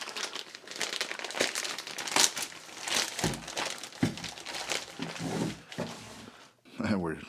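Packaging of a Latvian military field ration being torn open, with loud crinkling and ripping bursts that come in irregular pulls over several seconds, close up, while a person talks throughout.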